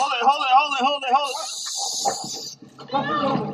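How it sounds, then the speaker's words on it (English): Pepper spray bursts out in a sharp hissing blast lasting about a second, between loud shouting voices during a street confrontation. "Pepper spray, great pepper spray."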